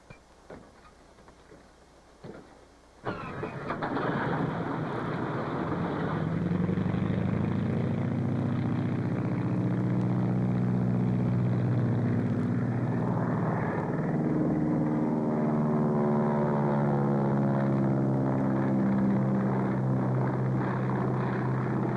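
A 1930s propeller airplane engine coughs and catches, then roars up to a steady, loud, continuous drone that holds for many seconds with its pitch slowly shifting, no voices over it.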